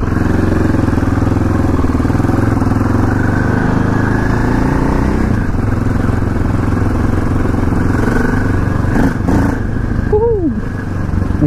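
A KTM LC4 640 single-cylinder motorcycle engine with stock exhaust, a loud, steady thumping drone close by that lasts throughout, with a brief rise in revs near the end.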